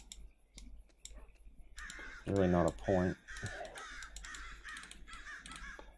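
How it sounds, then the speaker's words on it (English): Crows caw loudly in a Minecraft Eternal game, two strong harsh calls in the middle with fainter cawing around them, while people talk over the scene. "Shut up, crows!"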